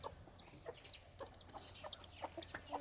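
Chickens and other poultry kept on a farm abroad by a Thai worker in Israel, clucking steadily at moderate distance with repeated short calls over a faint background murmur.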